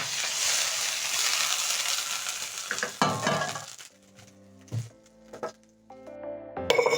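Butter and cooking oil sizzle loudly in a pan for about three seconds while a cheese sandwich is made, then the hiss cuts off, leaving quieter clinks and faint tones.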